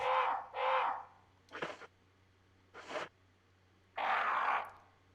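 Birds cawing in the Resident Evil video game: five separate harsh crow-like caws, two quick ones close together, then two shorter ones, then a longer final call, with a low steady hum underneath and no talking.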